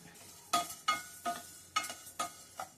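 Curry leaves, spices and dried tamarind dry-roast in a pan, stirred in short scraping strokes. About six crisp, rhythmic scrapes sound close by, with a light crackle between them and no talking.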